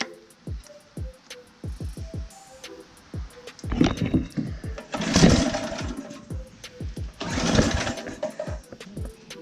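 A petrol-engined sod cutter, freshly fuelled, being pull-started: a run of rapid ratcheting clicks, then several loud rasping bursts of engine turning over that flare and fade, close by with no talk.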